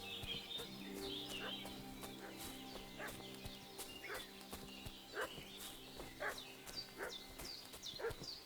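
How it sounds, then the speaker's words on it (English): A dog barks repeatedly in Kingdom Come: Deliverance II, sharp evenly spaced barks coming from a short distance. Hoof clops and faint farmyard sounds carry underneath. "What's that dog making such a fuss about?"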